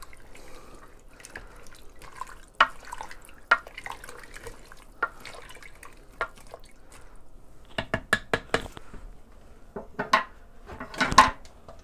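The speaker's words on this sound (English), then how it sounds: "I'm just going to give it a quick stir" A spoon clinks and scrapes inside a metal pressure cooker while chicken chili with bouillon and spices is stirred, giving scattered sharp taps and a cluster of quicker knocks near the end over a quiet background.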